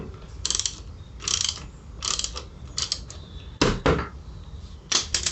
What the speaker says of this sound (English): Going to need a plug wrench, socket wrench,